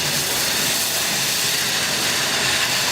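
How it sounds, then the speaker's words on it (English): A CO2 fire extinguisher nozzle discharges onto a fire in a steady, loud, unbroken hiss that fills the whole stretch evenly. "Firefighters will put the nozzle in, making the Z-pattern, extinguishing the fire."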